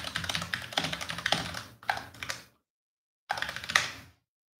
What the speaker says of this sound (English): this is the keyboard I'm clicking away on